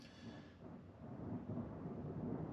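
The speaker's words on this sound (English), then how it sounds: "I don't know if you can hear the thunder and lightning or the ridiculous amount of rain that's coming down" Heavy rain roars steadily during a thunderstorm, with a low rumble of thunder swelling underneath, heard faintly from inside a garage during a Ford 7.3 IDI truck transmission swap.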